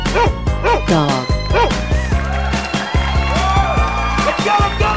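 A dog barks in a cartoon-style animal clip, a string of quick yips and barks up close over a loud, bass-heavy music bed, with a few whimpering, whining tones mixed in.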